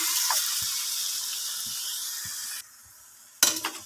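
Pork pata simmering with soy sauce while it is stirred in a pot: a steady wet sizzle and bubbling with soft, periodic scraping, then a brief quiet before a sharper clatter near the end.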